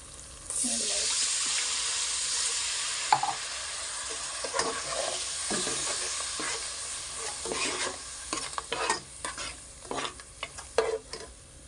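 Chilli masala sizzles loudly in a pan while a spoon scrapes and stirs it with irregular clattering strokes. The sound comes from close by and grows busier toward the end, and no voices are heard.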